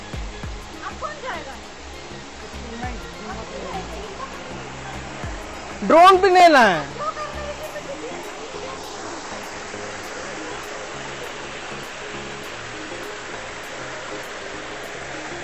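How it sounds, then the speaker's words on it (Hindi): Steady rushing roar of a hidden forest waterfall fills the scene, with someone speaking briefly over the constant water noise. "देख सकते हैं झरना ये रहा"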